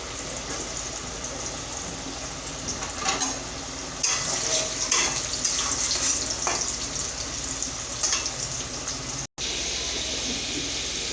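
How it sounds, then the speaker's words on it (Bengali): Potato pieces deep-frying in hot oil give a steady, close sizzling hiss that brightens with bubbling crackles partway through and carries on unbroken, with no talking. "আলু চিপসের মতো একদম লাল লাল করে ভেজে নেব।"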